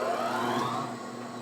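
An electric log splitter motor whirs, its pitch gliding as it comes up to speed and then settling into a steady mechanical hum, moderately loud and close, with no voices.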